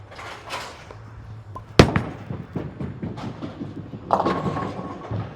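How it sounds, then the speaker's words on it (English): Plastic bowling ball with no weight block rolling down a bowling lane toward the gutter, giving a series of irregular thumps with a sharp loud knock near the start and another burst later, over alley background noise. "we're going to try this plastic ball again up the gutter to see if it'll go straight"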